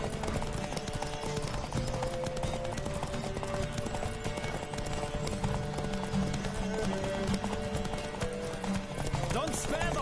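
Rapid clip-clopping hoofbeats of a galloping horse in The Witcher 3 on PS5 run steadily throughout, loud and busy, mixed with dense game music and effects.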